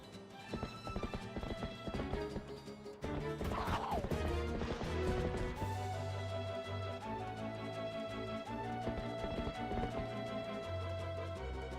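Horse hooves clip-clopping and a neigh in Zelda: Twilight Princess, set among game music and crashing effects, moderately loud with no talk.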